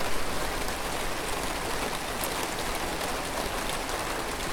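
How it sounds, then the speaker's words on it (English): Steady broadband wash of rain with water spilling from the overflow hole of a full water butt under a pergola, constant and fairly faint, with no voices. "It's flowing over the side from the overflow hole."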